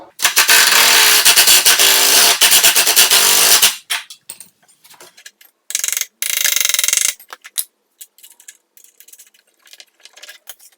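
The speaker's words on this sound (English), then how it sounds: "a 9/16 socket on my impact driver, and 9/16 wrench to hold the nut in place" An impact driver fitted with a 9/16 socket tightens a bolt through a folding outfeed table leg while a wrench holds the nut, giving a loud, sustained hammering burst, a pause, then a second shorter burst and scattered clicks.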